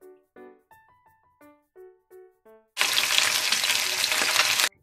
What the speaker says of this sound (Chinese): 煎鱼的技巧就是你不要喐它，等它煎好一边先，反另一边煎就没那么容易散的了